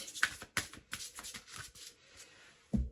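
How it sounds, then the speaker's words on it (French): Tarot cards drawn from a deck, heard as a quick run of close, crisp paper flicks and slides, followed by a brief thump at the end, with no talking. "Allez, on va prendre quelques cartes ici."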